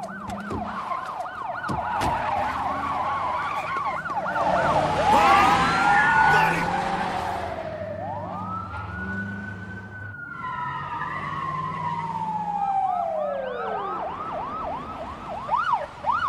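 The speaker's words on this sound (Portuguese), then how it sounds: "Já era, estou ouvindo as sirenes." Police sirens in an action film wail loudly and overlap one another, rising and falling over rumbling vehicle noise. A long swooping tone sweeps through the middle with no talk.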